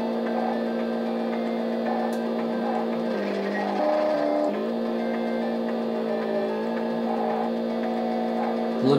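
Synthesized Formula One engine tones from the Famicom Disk System racing game Famicom Grand Prix: F-1 Race, a dense, steady electronic whine of several cars that dips and shifts in pitch midway, loud and continuous throughout.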